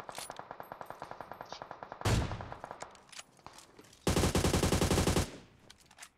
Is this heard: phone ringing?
no